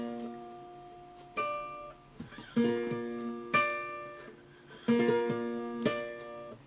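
Guitar plays a wide chord on the top four strings in a chromatic style, with several separate strums, each ringing out and fading, some as quick rolled arpeggios, close and moderately quiet with no voices.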